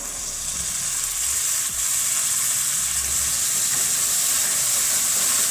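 Constant bright sizzle of tomatoes hitting onions that have been frying for several minutes, a loud, steady hiss with faint stirring clicks underneath and no talk.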